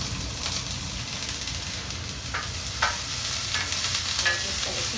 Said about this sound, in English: I'm just going to heat that up a little bit. Saute it.